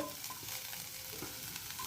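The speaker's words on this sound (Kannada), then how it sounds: "ನಂತರ ಚಕ್ಕೆ, ಮೆಣಸಿನ್ಕಾಯಿಯನ್ನು ನಾವು ಹಾಕ್ಕೊಂಡಿದ್ದೀವಿ, ಫ್ರೈ ಮಾಡ್ತಾಯಿದ್ದೀವಿ" Cinnamon and chili sizzle softly in hot oil as a tempering for a peas chaat, with light stirring scrapes over a quiet, continuous frying hiss.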